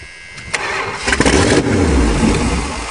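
A Chrysler New Yorker cranks over on a cold start and catches, the engine stumbling and then settling into a loud, steady run close by.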